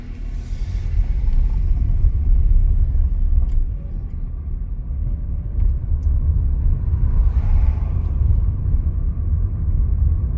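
A car driving slowly up a road toward the office of a golf club, its low engine and tyre rumble dominating steadily and fairly loud from inside the vehicle, with a few faint clicks and no speech.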